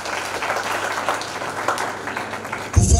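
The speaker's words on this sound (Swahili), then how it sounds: "Tujipigie makofi" A crowd applauds at a Form Six graduation ceremony at Shauritanga High School, dense steady clapping filling the whole stretch before a louder low thump near the end.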